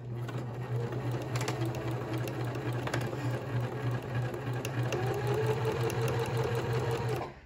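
A sewing machine stitches fabric in a steady, even hum with light mechanical ticking, running continuously at moderate volume before stopping at the end.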